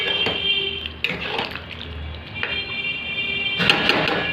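Water poured into a pan of soybean and potato curry, gushing in short splashy bursts punctuated by sharp clinks of the vessel against the pan, close and fairly loud.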